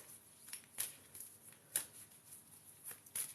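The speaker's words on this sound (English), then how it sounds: "Okay, let's shuffle these cards." Tarot cards being shuffled by hand, soft quiet riffling flicks and taps arriving in irregular bursts, faint and close with no voices.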